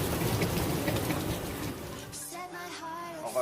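Steady rain pours down on a mountain hike on Gunung Pangrango via Cibodas, a dense, even hiss that eases slightly near the end.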